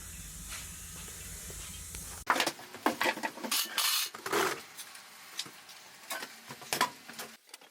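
Dremel rotary tool fitted with a small brush scrubbing the brass fittings of a tiny faux-croc cowhide leather hat trunk, a faint steady hiss that gives way to irregular close scratchy brushing and rasping, without speech.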